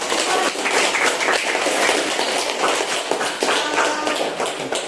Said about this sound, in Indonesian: untuk kalian semua silakan kita beri aplaus